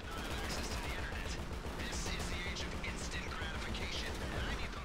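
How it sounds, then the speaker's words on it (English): Grand Theft Auto V Online firefight with dense, faint rapid shots rattling continuously in the background, voices talking and calling out over it. "I'm just shooting! I'm getting shot at."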